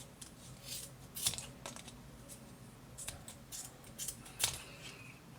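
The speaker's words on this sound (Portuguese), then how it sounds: "Então, a volta toda, cortando todas as pontinhas." Scissors snipping the yarn ends around a crochet pompom, a series of quiet, crisp cuts at an uneven pace against faint background hiss.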